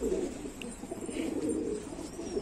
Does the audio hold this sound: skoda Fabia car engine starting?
no